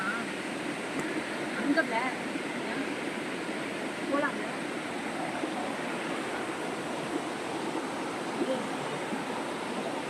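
Rushing water at Koraiyar waterfall in the Pachamalai hills, a constant hissing roar at moderate distance, with faint voices and small sounds occasionally rising over the flow.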